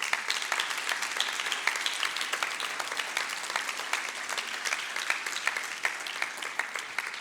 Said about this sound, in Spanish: Dele palmas fuerte al Rey de la Gloria.